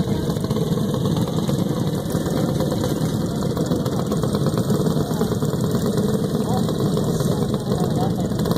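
A cold race-car motor idles at Southern Gap Raceway with a loud, constant low rumble and rough mechanical chatter that never lets up, while voices sound faintly underneath.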